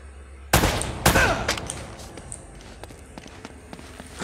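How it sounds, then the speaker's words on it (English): Gunfire in Uncharted: Drake's Fortune, two loud close shots followed by fainter scattered distant shots and footsteps. "They're shooting at you too, you know"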